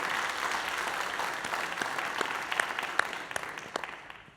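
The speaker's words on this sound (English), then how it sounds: "Can we give them a round of applause?" Applause for county law enforcement officers and school resource officers at a school district program, a brief burst of scattered clapping from an audience that builds and then fades over a few seconds.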